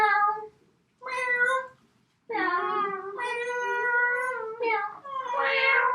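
A person imitates a cat's meow with several drawn-out, whiny vocal meows separated by short pauses, close to the microphone, during a casual podcast contest.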